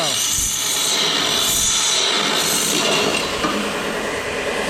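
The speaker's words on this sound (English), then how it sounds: "So now I'm going to take these and deburr them." Metal pieces for a pit bike ramp being deburred, a loud continuous grinding scrape with shifting pitch and a few clinks, close up and without speech.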